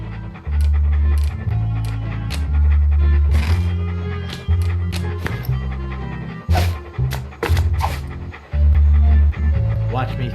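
A dog panting in a video game: rhythmic, close breathy pants come in repeated bursts, mixed with low musical tones and occasional talk from a player.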